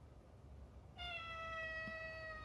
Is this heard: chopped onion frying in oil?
no